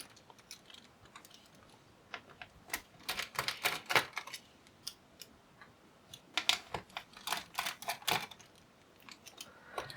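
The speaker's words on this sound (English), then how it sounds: "To replace the battery, we have these 4 screws. So we can go along and remove these." Screws come out of an HP EliteBook laptop's battery panel, with a rapid series of small, close clicks and ticks of a screwdriver working in short bursts, fairly quiet and without talk.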